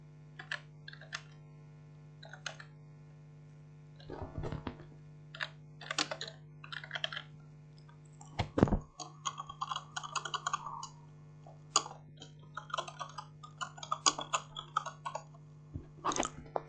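Someone types a name into a form on a computer keyboard: soft, close clicks arriving in irregular bursts with short pauses, set against a faint steady hum.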